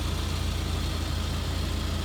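A 2003 Saab 9-5 with the 2.3t engine idles steadily close by, a low, even drone with a faint ticking of valve train noise running through it. No one speaks.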